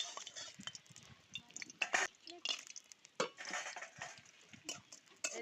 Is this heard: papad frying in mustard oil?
yes